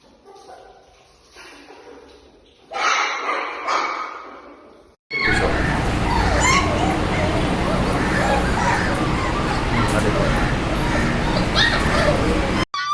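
Several puppies at a puppy sale, breeds including Labrador, Beagle, Shih Tzu, Pug and Doberman, yip, bark and whimper, first faintly, then in a loud, continuous racket over voices and crowd noise.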